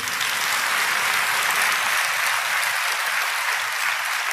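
A church congregation breaks into loud, sustained applause, a dense continuous wash of many hands clapping close by without letup and without speech.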